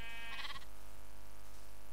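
Sheep bleating in a Minecraft-style video game, a single short bleat near the start followed by quiet game ambience.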